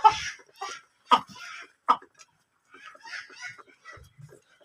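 Tiger breed village chickens cluck and call in short, uneven bursts close by, with a few quieter calls between louder ones and brief silent gaps.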